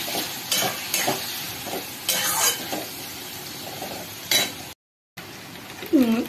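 A paste of chilli, ginger and garlic sizzles and fries in a pan while a spoon stirs it, producing intermittent scraping and clinking bursts up close with a brief gap of silence.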